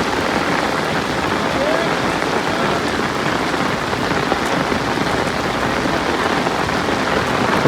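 Steady broadband patter of the season's first monsoon rain falling beside a river, loud and continuous throughout, with faint voices of a crowd gathered on the riverbank.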